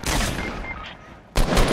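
Sniper fire in the Fortnite video game: a loud, sharp burst opens, the sound thins into quieter rumble, then a second heavy blast strikes near the end.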